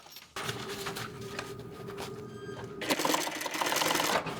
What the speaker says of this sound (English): I do top stitch over where it's bound on this seam.